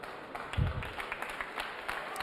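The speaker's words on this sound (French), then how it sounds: "Les applaudissements de la salle" Hall audience applauding at a boxing or fight gala, a diffuse wash of clapping that stays steady and moderately faint across the whole moment, with a low thump near the start.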